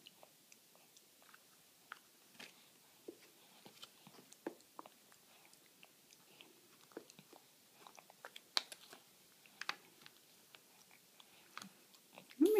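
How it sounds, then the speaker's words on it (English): A baby eats apple cinnamon oatmeal, making soft, irregular wet clicks and smacks of chewing close to the mic in a quiet room, with a slightly louder burst at the very end and no talking. "Are you eating? Is that some apple oatmeal cinnamon?"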